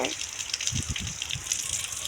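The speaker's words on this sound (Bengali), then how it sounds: "এটা তো পুরো একদম বৃষ্টি হচ্ছে" Heavy rain pours steadily outdoors as a broad, constant wash of noise, with a few low thumps and splashes underneath.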